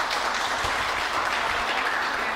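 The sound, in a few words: audience applause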